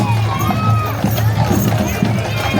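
Clydesdale horses clip-clop along a street in a parade at the Eastern States Exposition fair, their hoof beats rhythmic and fairly close under crowd noise and nearby talking.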